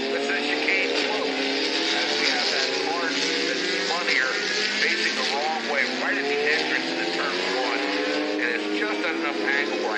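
Formula race cars at an SCCA Majors event pass on track under caution, a continuous overlapping drone of engines with rising and falling notes as cars go by, while a commentator talks over it.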